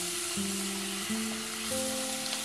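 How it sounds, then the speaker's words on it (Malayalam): Anchovies (netholi) are frying in a pan with a steady, close sizzle that continues without pause for the whole moment, no talking over it. "എന്നിട്ട് നമ്മൾ വൃത്തിയാക്കി വെച്ചിരിക്കുന്ന മീനിടാം."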